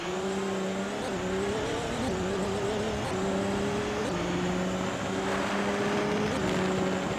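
Racing car engines in an AI car race video game drone continuously, a steady buzzing whine that shifts pitch in stepped gear changes, loud and close with no talk.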